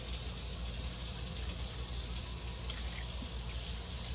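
Hot water runs from a tap into a kitchen sink, a constant bright rushing hiss that holds steady and fairly close the whole time with no talking.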